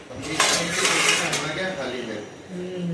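Dishes and cutlery clattering in a home kitchen during cooking, a burst of ringing clinks and scrapes up close, fading into softer handling, with a voice speaking underneath.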